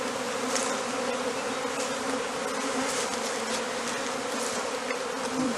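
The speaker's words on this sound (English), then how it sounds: "that causes all of the bees to take flight" A swarm of honey bees hums in the branches of a tree, a dense, steady buzzing that fills the air at close range throughout, with no voices.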